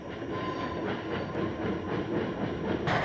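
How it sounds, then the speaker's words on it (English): Santa Fe steam locomotive 3759 hauling a train eastward out of Pasadena in 1955, a loud, steady rumble with rhythmic wheel clatter that holds close throughout, with no voices. "3759 picks up speed as she heads her train eastward again"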